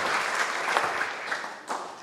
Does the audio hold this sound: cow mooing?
no